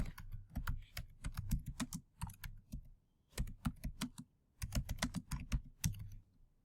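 Fingers type quickly on a computer keyboard, entering a short title into a presentation slide. Sharp, close key clicks come in bursts with brief pauses between words, and no one speaks.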